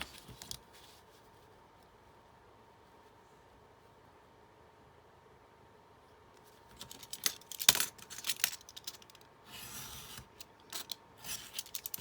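A piece of card stock being cut for a handmade card, heard as several short, sharp snipping and rasping strokes in quick bursts after a long quiet stretch, close and faint.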